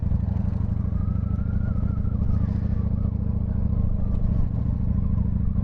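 A Honda VT1100 Shadow Ace motorcycle engine runs with a deep, steady throbbing rumble, loud and close throughout, with a slight rise in pitch midway and no voices.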